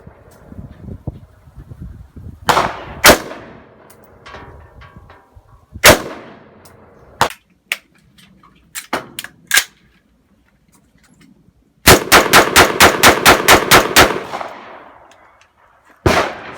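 An M16A1 rifle fires at an outdoor range: a few spaced single sharp cracks, then a rapid string of about ten evenly spaced loud shots, with faint background murmur between bursts.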